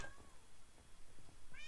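A cat in the video game Minecraft gives a couple of short, faint meows in a quiet moment.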